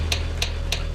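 A motor disengaging in the game Electrical Age, producing three evenly spaced sharp clicks over a low, steady electrical hum.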